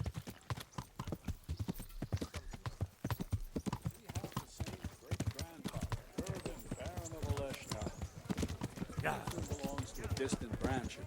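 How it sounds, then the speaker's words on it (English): Horse hooves clip-clop rapidly and steadily in the medieval video game Kingdom Come: Deliverance, a continuous galloping rhythm close up, with someone talking over it. "Boxer, you are shittiest horse I have ever seen."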